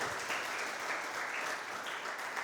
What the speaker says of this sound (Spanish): Denle un aplauso de alabanza al Rey de Reyes que nos hace